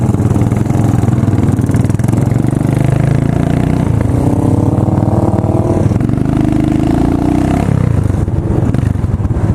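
An old-school motorcycle engine runs steadily and loud, close by, its throbbing exhaust note rising and falling slightly with throttle as the bike rides along, with no talking.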